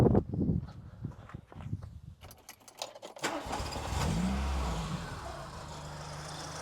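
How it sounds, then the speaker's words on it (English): A car engine cranks and catches a few seconds in, then settles into a steady idle; footsteps and handling noises come first, with the car prepared for an air/fuel ratio check. "Now I'm just gonna start up the car."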